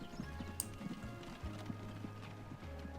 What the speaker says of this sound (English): Oh, look at the horsey.